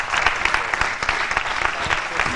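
A studio audience on a Saudi sports TV show claps steadily and loudly, a dense, continuous wash of applause with no break.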